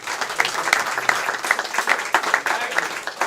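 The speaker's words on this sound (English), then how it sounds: "big round of applause" An audience at a Japanese skills workshop day applauds steadily, many hands clapping in a dense, even patter close by, with no voices over it.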